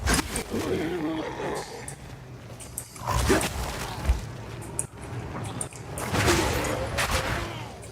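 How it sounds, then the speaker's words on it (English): Explosive force attacks from the action RPG Path of Exile 2, a run of loud, booming blasts and crunching impacts layered over dense game effects and music, with heavy bursts around the middle and near the end. "So for example, explosions, like force attacks, like this one."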